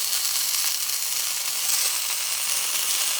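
A thick blackened mahi mahi fillet sizzles in a hot pan, a steady, bright frying hiss with no break.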